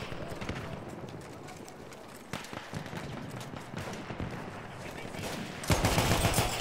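Rapid M1909 gunshots in Battlefield 1 crackle as irregular bursts over a dense battlefield din, with a louder cluster of shots near the end.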